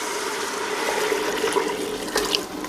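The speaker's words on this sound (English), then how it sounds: "I've got about, I think this is about 2 litres of water that's just going to go" About two litres of water pours into a cooking pan, a steady, fairly loud splashing rush that holds throughout with no voices.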